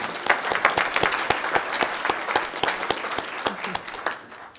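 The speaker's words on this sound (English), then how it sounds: "But let's give Jackie a round of applause" Applause at a board meeting, with several people clapping in a room; individual sharp claps stand out in a fairly close, lively patter that tapers off near the end.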